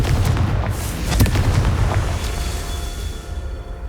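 A Confringo blasting spell erupts in Hogwarts Legacy, a loud close boom with a deep rumbling body that fades into a lingering low roar over several seconds.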